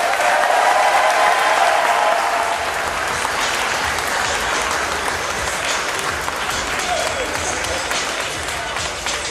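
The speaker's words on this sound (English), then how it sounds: "Everybody give a round of applause" A hall audience applauds to welcome a guest speaker at a Memphis, Tennessee event, steady loud clapping filling the room with a few cheers and voices mixed in, easing slightly toward the end.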